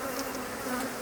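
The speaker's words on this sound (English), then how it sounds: "When they get queenless like this, the bees get desperate." Honeybees at a queenless hive give off a dense, steady buzzing, close and continuous throughout, with no voices.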